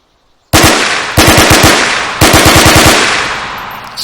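Three rapid bursts of machine-gun fire ring out in the Arma 3 IFA3 mod, each a fast loud rattle of shots that decays with a ringing echo after a brief silence.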